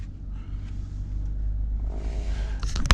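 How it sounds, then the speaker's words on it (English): Lexus IS250/IS350 engine running at steady idle with a low continuous rumble, rising briefly toward the end as if revving, heard from inside the car with the windows up. "Put the seatbelt on, start her up."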